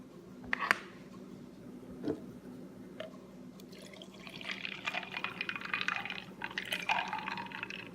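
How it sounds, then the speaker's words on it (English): Liquid poured from an opened carton while cooking breakfast, a steady splashing pour building over several seconds after a few brief handling clicks, close and moderately loud. "I'm just gonna open it and pour it."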